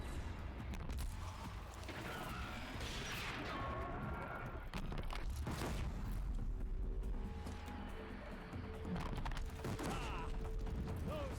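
Glinthawk machine creatures from Horizon Zero Dawn: mechanical creaks, whirs and metallic crashes of flying robotic birds amid game combat, with shrill cries and clanks shifting across the scene.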